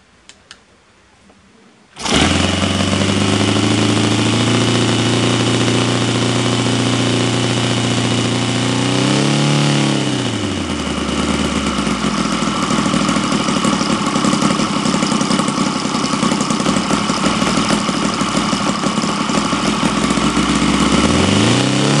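A Saito FA-120R3 four-stroke model glow engine, fitted with a fresh glow plug, fires up after a couple of seconds and runs loud and close, its pitch rising and falling as it revs up and settles back, then climbs again near the end.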